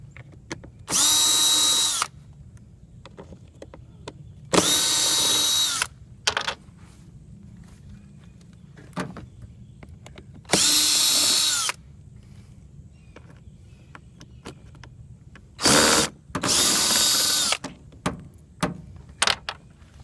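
A power drill backs out Phillips screws from the side panel of a Champion generator during a teardown. Four loud, sustained whirring bursts come up close, each about a second long, separated by quiet gaps, with a few shorter taps near the end.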